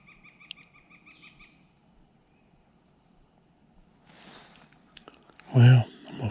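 Wild birds calling in spring woods during West Virginia spring gobbler season, with scattered chirps and calls through the clip, quiet stretches, and a louder burst of sound near the end.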